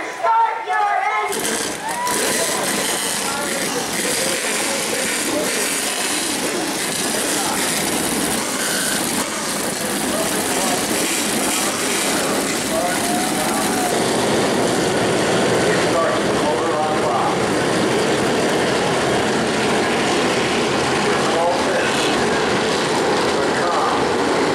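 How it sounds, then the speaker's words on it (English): Modified race cars at a New Smyrna speedway tour event fire up together and build into a loud, dense, continuous roar of engines revving, swelling further after about fifteen seconds, with crowd or announcer sounds mixed in. "Drivers, start your engines!"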